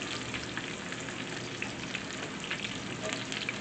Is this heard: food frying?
yes